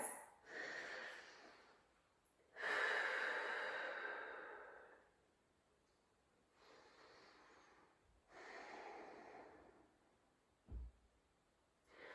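Deep, slow breaths during a mat Pilates stretch: several long airy inhales and exhales separated by quiet pauses, close and soft, with a brief low thump near the end.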